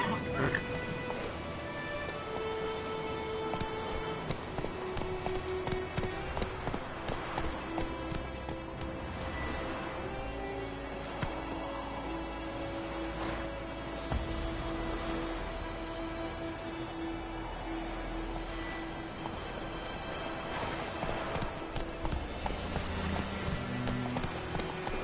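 Hooves of a ridden horse galloping in The Witcher video game, a steady clip-clop rhythm running throughout alongside game music and ambient sounds, with no talk.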